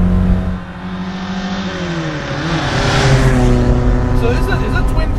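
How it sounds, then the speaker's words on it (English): A 1967 Ford Lotus Cortina Mk2 twin cam engine revs up close, its pitch climbing and falling through the gears as it accelerates, loud and continuous, with a voice briefly audible. "Can I wind it out a little Absolutely."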